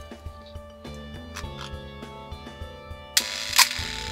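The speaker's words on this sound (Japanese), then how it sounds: "シャッターが切れます。" Shutter release of an Italian Gami 16 compact rangefinder camera: a sharp mechanical snap near the end, following a few soft clicks of winding and charging, close and clear with no talk.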